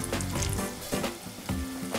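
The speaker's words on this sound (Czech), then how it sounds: "Lilek máme smažený, takže já ho vyndám." Eggplant fries in hot oil with a dense, steady sizzle and crackle, close up, with a few soft stirring clunks and no talking.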